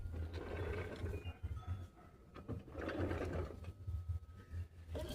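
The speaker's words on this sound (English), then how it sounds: "Sounds like it's got a bad chain." Steady mechanical whirring from a 2007 Chevy half-ton 4x4 transfer case with a worn chain, a rhythmic, chattering rattle and low hum, close by, continuing throughout without speech.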